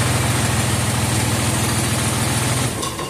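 A Ford vehicle with a C6 automatic transmission idles nearby, a loud, steady low rumble that drops slightly in the final moment.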